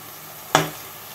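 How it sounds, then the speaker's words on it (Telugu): Ginger for a country chicken curry hits hot oil in a pan and is stirred, giving one sudden close sizzle burst that fades into a low steady frying hiss. "అల్లం మంచిగా వేగాలి."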